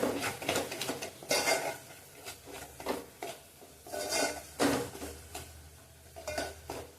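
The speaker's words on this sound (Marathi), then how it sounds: "मसाले तेलात चांगले भाजले गेले" Spices roasting in oil in a pot for a home-style chicken curry, heard mostly as intermittent clanks and scrapes of a spoon against the pan over a faint sizzle, close and unaccompanied by speech.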